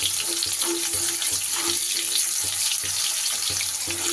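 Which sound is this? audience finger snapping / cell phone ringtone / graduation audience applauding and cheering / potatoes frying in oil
potatoes frying in oil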